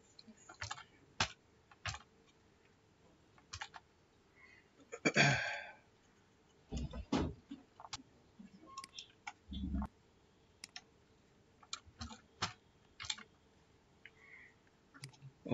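Typing on a computer keyboard while HTML tags are entered, heard as scattered single key clicks and short bursts spread over a quiet room, with one longer clattering run, at moderate closeness.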